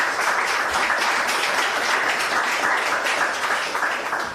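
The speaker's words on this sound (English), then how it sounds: "a big round of applause for our 3 amazing speakers from this evening" A live audience applauds the evening's three speakers at a Frontback meetup, dense steady clapping from many hands that holds at an even level throughout and tapers slightly at the end.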